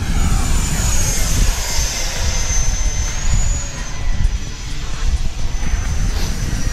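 An FMS Rafale or Freewing Eurofighter v3 RC jet roars loudly and continuously through a tight minimum-radius turn, its high ducted-fan whine sweeping in pitch over strong low rumble and wind buffeting.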